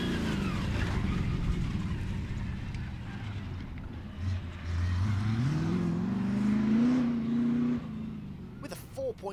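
A Maserati rally car with a 1.8 litre Rover V8 engine races on a stage, the engine note climbing steadily as it accelerates, loud and close with wind noise throughout.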